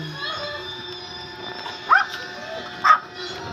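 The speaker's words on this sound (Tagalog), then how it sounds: "Tapang ng aso" A dog gives two short barks at some distance in a quiet outdoor setting by a hut, set against a faint steady background hum.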